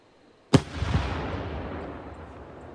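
A shakudama firework shell launches in Nagano, Japan with a single sharp, loud boom, followed by a long rumbling decay that fades slowly over a couple of seconds.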